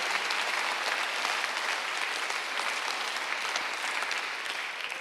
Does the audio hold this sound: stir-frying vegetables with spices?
no